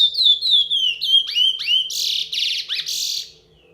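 A pet bird in early moult sings a close, loud run of rising and falling whistles, chirps and buzzy trills, repeated phrases for about three seconds before falling silent.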